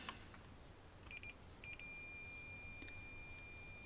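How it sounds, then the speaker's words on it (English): A multimeter gives short continuity-test beeps while probing traces on an Atari ST hand scanner circuit board: two brief tones, then a longer sustained beep over a faint background hiss. "Definitely, I'm testing continuity there."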